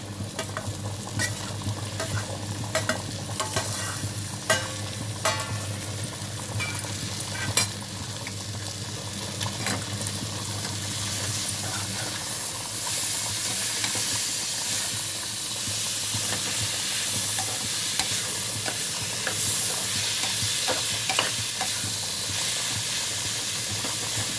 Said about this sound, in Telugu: ఇప్పుడు కట్ చేసుకున్న టమాటా ముక్కలు వేసుకున్నాం